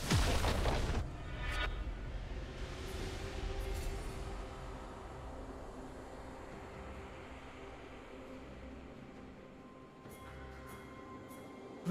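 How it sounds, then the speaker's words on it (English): A turret collapsing in League of Legends during a top-lane Urgot versus Poppy match: a heavy booming crash at the start, then a long rumbling decay with scattered game effects and later bursts. "Red team's turret has been destroyed."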